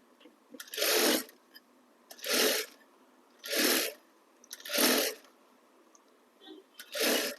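Sewing machine stitching narrow piping onto a garment neckline, running in five or six short bursts of about half a second each, separated by brief pauses, close and fairly loud with no talk.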